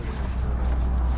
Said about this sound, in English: Big old Ford engine in this thing.